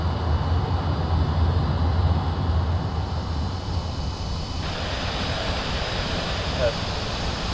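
A Dornier Do 31 VTOL jet taxis toward the runway at Oberpfaffenhofen in a flight simulator, giving a steady, loud jet-engine roar with broadband hiss that continues throughout.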